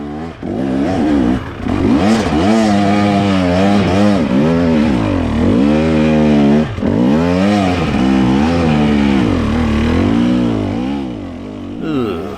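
A motorcycle climbs a single-track dirt hill, its engine loud and close, revving up and down through repeated throttle surges and gear changes for the whole run before it fades near the end.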